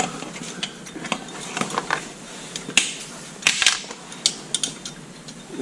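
A 9/16 wrench snugs up hitch bolts, giving sharp metallic clicks and ratcheting taps in an irregular rhythm, close and fairly quiet, with no talk.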